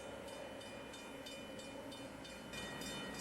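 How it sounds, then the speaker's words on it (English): A train rolls steadily past nearby in Niangua, Missouri, along Route 66, a constant rumbling roar with rhythmic clacks of wheels over rail joints. "I hear a bell coming. I don't know. Let's see. A train may be coming."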